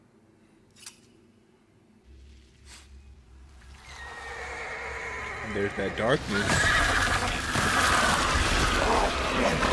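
Horses neigh and whinny amid a swelling, dramatic rumble, with a voice speaking briefly near the start before the noise builds loud.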